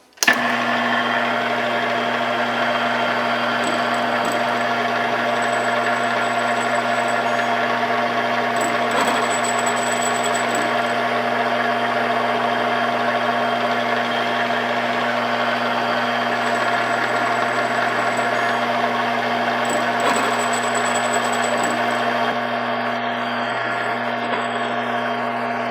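A metal lathe cuts a screw thread with shallow passes, cutting fluid applied, giving a steady machine hum with a faint high whine and periodic ticks as the tool feeds. The sound holds at a constant level throughout, with no talk.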